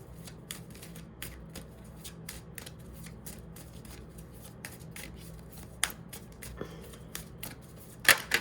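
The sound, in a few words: shuffling oracle (angel) cards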